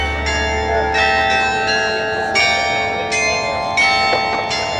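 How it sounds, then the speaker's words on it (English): Rathaus Glockenspiel bells chime clearly and close, a series of bright struck tones ringing and overlapping in a steady melodic sequence, with no talking. "that is the prettiest chime I ever did hear"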